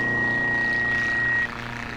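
A WW1 fighter plane's propeller engine drones in flight in Flight Simulator X near Popham Airfield, a steady loud harmonic hum with a faint whine that drops slightly in level near the end, with no voices.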